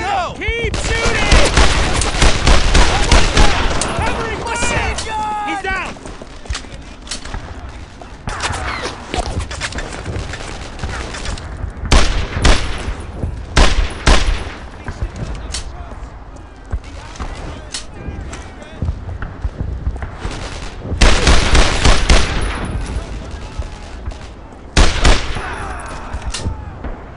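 Machine gun and rifle fire in the Brothers in Arms: Earned in Blood video game, with an MG-42 among the weapons, loud sustained bursts and volleys throughout, under frequent shouted soldier voices.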